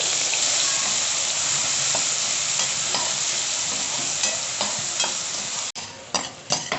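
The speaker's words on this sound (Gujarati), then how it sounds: "પહેલાં આપણે આવી ઝીણી ચોપ કરેલી ડુંગળી વઘારશું" Finely chopped onion sizzling in a pan with cumin tempering, a loud, continuous close-up hiss with a few clinks and stirring knocks toward the end.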